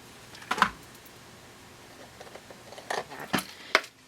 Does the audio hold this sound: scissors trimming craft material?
yes